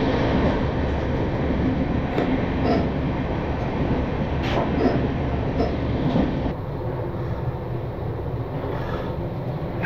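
A Kolkata to Darjeeling special passenger train running, heard as a steady, loud rumble of rolling stock with faint rail clatter and occasional squeals, continuous throughout and slightly quieter near the end.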